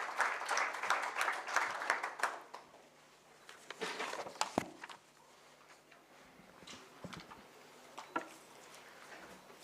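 Audience applause welcomes a guest at a waste recycling and climate change conclave, a dense burst of clapping at first that thins into scattered, fading claps and taps.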